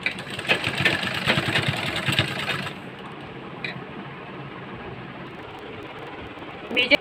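A sewing machine stitches a boat neck kurti front neck with a half-inch margin, a fast buzzing whir for a few seconds before stopping, leaving a quiet room with a faint click.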